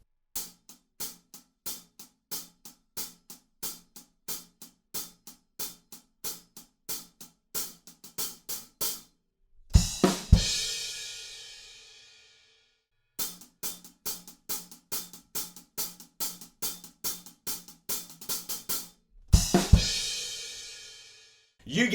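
Drum kit playing a pop groove in the style of Bruno Mars' Locked Out of Heaven: steady eighth-note hi-hat ticks alone, each run broken by a loud crashing fill that rings out before the hi-hats resume.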